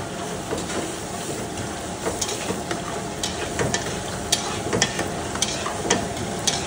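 Whole cumin, cardamom, cinnamon, cloves and green chilli frying in a pan for mutton kosha, giving a steady close sizzle with scattered crackles and pops and occasional stirring.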